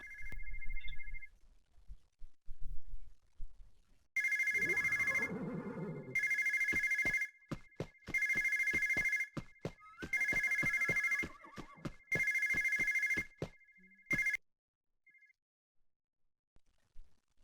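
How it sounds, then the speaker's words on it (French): A telephone rings in the Alexandra Ledermann horse-riding video game: a loud electronic ring repeats in about six long, evenly spaced bursts, with a short tone before the first burst and brief beeps after the last. "On va aller répondre au téléphone d'ailleurs."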